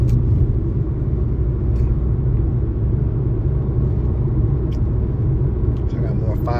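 A car on a road during a package delivery drive rumbles steadily and loudly from inside the cabin, a constant low engine and road drone throughout, with a voice speaking over it.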